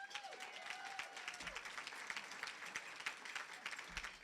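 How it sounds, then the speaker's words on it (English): Applause from an audience fills a museum's 20th anniversary celebration at the Breman Museum: steady, dense clapping from a sizable crowd, continuous and fairly close throughout. "I know that those applause are really for Shirley Brickman, who did an outstanding job"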